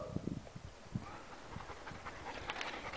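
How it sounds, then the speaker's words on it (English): Dog panting quickly and rhythmically close by in a quiet, sheltered sandstone canyon, soft breathy pulses with a few louder huffs, with no talking. "You can't hear the echo over Huck's panting"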